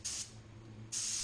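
A paint spray gun hisses loudly and close while coating a car, two strong bursts separated by a short pause with quieter airflow in between.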